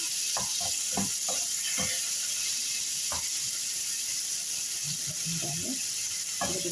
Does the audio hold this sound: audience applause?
no